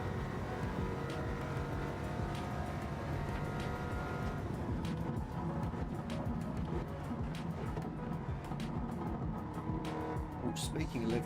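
A McLaren race car in a racing video game roars through a lap, engine droning steadily with occasional tire squeal and passing whooshes, a continuous mid-level motor sound.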